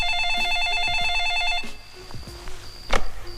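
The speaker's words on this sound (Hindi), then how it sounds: "प्रिया, हाय, मैं तुम्हारे ही फोन का इंतजार कर रही थी।" A telephone rings with a repeated electronic trill, then stops; a few soft clicks and a brief tone follow in a quiet room.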